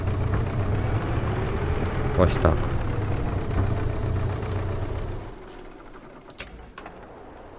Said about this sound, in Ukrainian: давайте тут поставимо трактора у холод